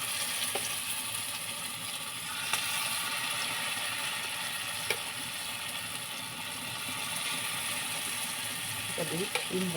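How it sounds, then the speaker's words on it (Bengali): Small egg bori dumplings frying in oil in a wok, a steady broad hiss running throughout with faint scraping clicks, fairly quiet and uninterrupted. "এবারে আপনার অল্প অল্প করে বড়ির মতন করে ভেজে নেব"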